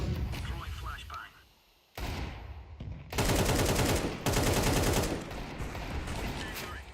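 In Counter-Strike 2 matchmaking, a flashbang grenade is thrown amid loud bursts of gunfire, with sharp blasts and crackling shots cutting in and out over several seconds.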